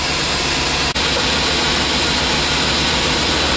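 A Ford Triton engine after a spark plug repair runs smoothly, giving a loud, steady, unbroken roar with one brief dip partway through.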